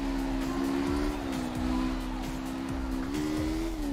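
Car engine in CarX Drift Racing Online on Xbox One, played on a wheel, holds a steady loud drone with slight pitch shifts as the throttle is feathered, with faint tire noise underneath and no talking.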